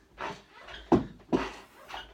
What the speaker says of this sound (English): that noise is my chair squeaking